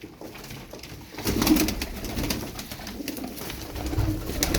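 Tumbler pigeons coo in a loft, soft throaty repeated calls rising over a hushed room, close by and alone with no talk.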